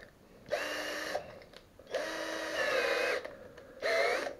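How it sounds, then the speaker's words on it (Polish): A power drill with a 10 mm bit bores a hole while fitting a window with a roller shutter box, running in three bursts of whining motor with short pauses between them, moderately near. "Kołki, dyble mam Fi10, więc dziurę robię wiertłem Fi10"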